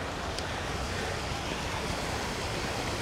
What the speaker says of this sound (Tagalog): So, yan yung fountain guys.